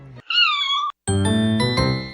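Cat meows loudly and close by, one drawn-out rising and falling cry followed after a brief pause by a second, lower, longer meow.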